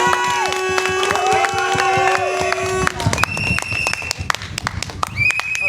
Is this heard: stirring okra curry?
no